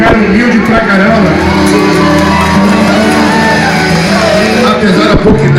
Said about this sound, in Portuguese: Uma salva de palmas pro cara humilde pra caramba.